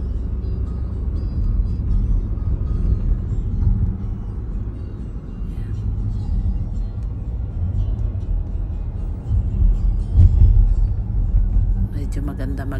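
Car driving along quiet San Francisco city streets near City Hall, a steady low engine and road rumble continuing throughout, with a person talking over it.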